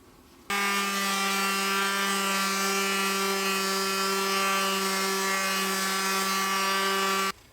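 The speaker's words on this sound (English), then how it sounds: "So what I'm going to do is give the back of this a really good sanding." Power sander working the back of a wooden piece, a steady loud motor whine with strong even hum, starting abruptly and running unbroken for several seconds before stopping.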